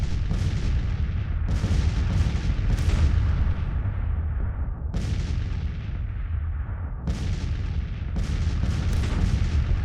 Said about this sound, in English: Let's let you go ahead and do some counter battery fire.